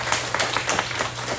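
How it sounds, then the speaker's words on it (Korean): A church congregation at a Sunday service claps together to welcome visiting family members, a steady crowd of overlapping hand claps heard throughout at moderate loudness, with no talk. "박수로 한번 환영할까요?"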